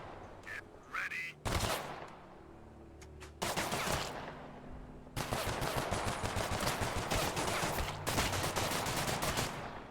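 Rapid automatic gunfire from the video game The Last Haven, loud bursts and sustained volleys filling most of the stretch, with brief quieter gaps and a few quacking-like tones early on.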